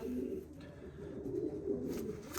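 Young racing pigeons of Marcel Albrecht lineage coo steadily in a loft, a low continuous burbling chorus close to the microphone with no talk over it.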